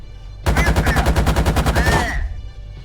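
A BMP-2's 30mm autocannon firing on targets: one loud, sustained burst of about a dozen and a half rapid, evenly spaced heavy shots over roughly one and a half seconds, then a fading echo.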